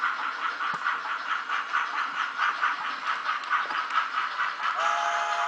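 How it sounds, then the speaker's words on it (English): A model train's steady hum and rhythmic clatter continue throughout, with a high grade crossing whistle chord joining near the end. "Doing the grade crossing whistle."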